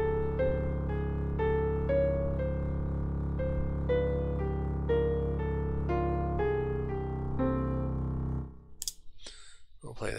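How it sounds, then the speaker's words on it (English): Composed electronic music: two melodic themes over sustained shadow chords and a steady shimmering drone, with repeated bright note attacks ringing above a dense low bed, playing alone before fading into noise at the end. "This is our two themes with a shadow chords and a drone, a shimmer drone."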